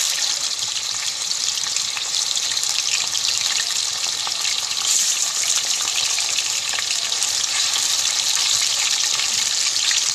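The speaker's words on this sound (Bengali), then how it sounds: "এবারে আমি চিকেনগুলোকেও ভেজে নেব।" Chicken pieces fry in hot oil in a pan, a steady bright sizzle and hiss that holds at a constant loudness throughout, with no voices.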